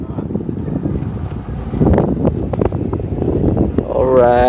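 Wind blowing on a small sailboat out on the water, a loud, buffeting rush of wind noise against the microphone that swells and gusts throughout, with people talking over it.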